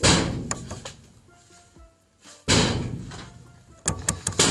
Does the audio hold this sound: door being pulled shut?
yes